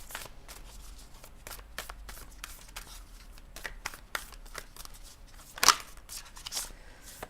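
A Moonology oracle card deck being shuffled by hand: soft, quick riffling and flicking of cards at close range, with a sharper crisp snap near the end.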